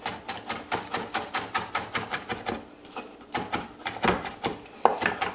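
A knife chops folded herb leaves on a board for vegetarian kebabs, making rapid, evenly spaced sharp taps that run close and fairly loud, pause briefly, then resume.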